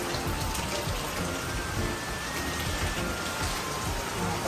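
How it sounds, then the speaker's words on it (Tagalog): Heavy rain pours down on a farm in a steady, dense roar of drops striking surfaces, close and constant throughout with no voices. "ang lakas ng ulan"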